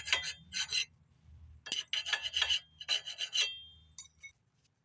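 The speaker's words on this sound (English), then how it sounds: "you might have to sand some of this rust down off the surface so it can finish flat now" Sanding rust off the surface of a removed brake rotor: several bursts of rough, raspy abrasive rubbing, close and fairly loud, separated by short pauses.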